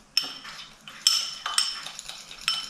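Powdered sugar and a drop of milk or heavy cream are mixed into a glaze in a small bowl: a few quick clinking utensil strokes against the dish, close and fairly quiet, in short bursts.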